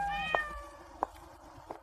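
A cat meows clearly up close, then gives two shorter mews, three calls in all against a quiet background.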